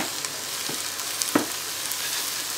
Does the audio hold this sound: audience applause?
no